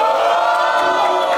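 A crowd at a rap battle roars and cheers in a loud, sustained wash of voices, close and continuous with a few whoops rising above it.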